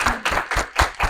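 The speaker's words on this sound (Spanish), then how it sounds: "Entonces les pido un aplauso." Steady, evenly spaced handclaps from a group fill a presentation hall at a talk on participatory governance, each clap crisp and close.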